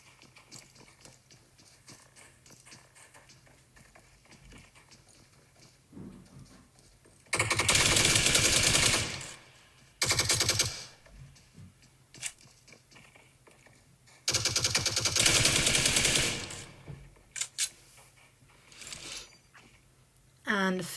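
Loud bursts of automatic gunfire in a PUBG match, two long sustained volleys and a few shorter ones, heard over quieter game ambience and a commentator's voice.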